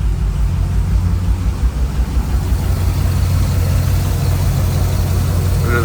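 A 2002 Chevrolet Silverado 2500HD engine idling after a tune-up, a steady low rumble, loud and close, with no speech.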